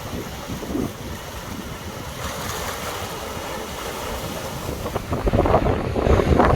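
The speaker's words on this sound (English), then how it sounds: "It's pretty windy down here" Wind gusting across a rocky beach below the cable car station at Achadas da Cruz, Madeira, a loud, rough rumble buffeting the microphone, with a surf-like wash building and growing stronger toward the end.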